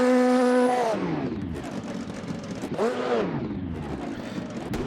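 A Nissan race car's engine in the racing game Automobilista 2, heard from outside, rises in pitch, then drops as it passes. A second swell and fall follows a couple of seconds later, with no talk.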